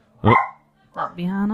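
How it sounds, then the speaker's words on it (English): A dog barks a couple of times in the background, short sharp yaps between spoken voices that talk over the noise. "There's an angry dog in the background."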